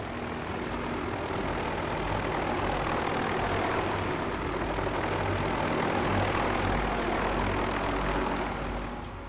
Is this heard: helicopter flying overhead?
yes